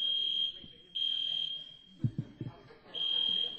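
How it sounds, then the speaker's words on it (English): A fire alarm set off by smoke from a grill indoors sounds a steady high-pitched electronic tone in repeated long blasts with short gaps, loud and close, while people talk briefly under it during a pause. "The smoke from the grill set off the alarm in the room."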